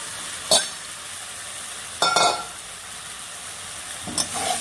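A katla fish head fries in a milk and spice mixture, a low continuous sizzle broken by three sharp scraping stirs close up, with no talking.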